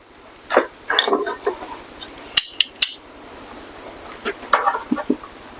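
A plate grabbed from a kitchen stack while making BBQ pork chops, a few bright ceramic clinks and knocks close by, with quieter handling rustles before and after.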